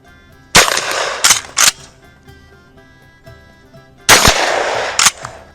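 A KelTec KSG shotgun fires mini shells outdoors: a loud, sharp report, two quick follow-up shots, a pause, then a fourth blast and a fifth, each close with a short echoing tail.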